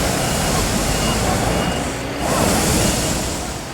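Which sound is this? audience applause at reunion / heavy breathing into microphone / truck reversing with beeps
truck reversing with beeps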